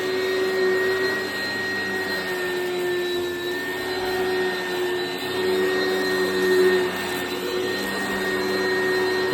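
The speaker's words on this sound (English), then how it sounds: "The brush mold's got something stuck in it because it's making that noise." An Oreck XL commercial upright vacuum cleaner running steadily at close range, with something caught in its brush roll, a loud constant whine and rumble with a few faint tonal hums throughout, no talking.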